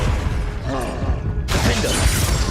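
A Confringo blast spell in Hogwarts Legacy bursts in one sudden, loud shattering crack midway, over dense battle noise and a brief voice.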